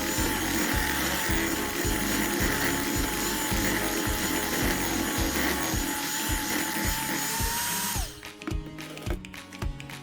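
An electric mixer beats butter, sugar, egg and red gel food colouring for red velvet cookie dough, a loud continuous whirring with a rhythmic churning pulse that cuts off near the end.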